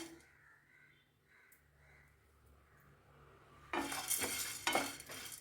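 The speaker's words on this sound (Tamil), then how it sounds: "இப்போ ரெண்டுமே சேர்த்துட்டு இதோட மாய்ஸ்சரைசிங் போகிற வரைக்கும் நம்ம வறுத்துக்கலாம்." Rice and urad dal dry roasting in a pan for idli premix: quiet low stirring for several seconds, then louder scraping and rustling of grains against the pan toward the end, with no talk.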